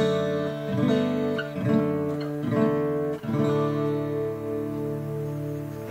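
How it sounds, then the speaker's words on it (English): Acoustic guitar in DADGAD tuning strumming four chord shapes in turn, each change marked by a fresh strum while open strings ring and sustain, close and clear with no voice. "So if I just play these first 4 chord structures for you, it sounds like this."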